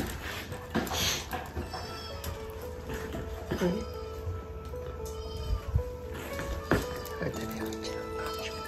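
A young kitten that was hit by a car mews softly several times, faint and fairly close, over steady outdoor background noise while a person speaks quietly nearby.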